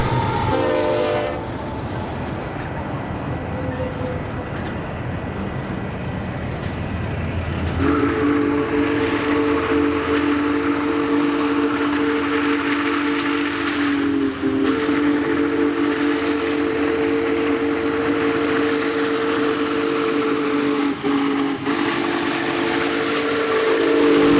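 Union Pacific Big Boy steam locomotive #4014's whistle sounds long and loud over the heavy rumble and clatter of a passing eastbound freight train, close by, in Arizona east of Tucson.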